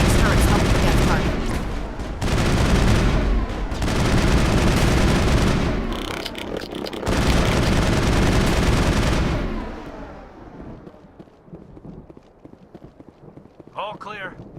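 Crossfire in the Mass Effect shooter on the planet Virmire, heavy sustained bursts of loud gunfire and booms filling the first ten seconds before fading to scattered quieter shots, with voices speaking amid the fighting.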